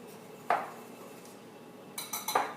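Dry ingredients for chocolate peanut butter cookies are mixed in a bowl. A few soft utensil clinks and taps against the bowl sound close and quiet, separated by near-silent pauses.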